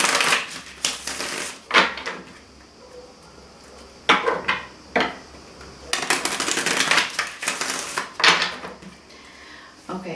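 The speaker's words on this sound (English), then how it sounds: "So let me just do a quick shuffle." A deck of tarot cards is shuffled in short, crisp riffling bursts, clattering and papery, separated by quieter pauses, with one longer run of rapid flicking in the middle.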